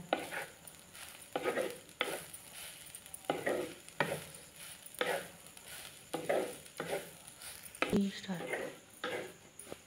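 Spice paste (masala) roasting in a pan for a spicy village-style country chicken curry, with repeated scraping stirs and a soft sizzle, the strokes coming in a steady rhythm close by.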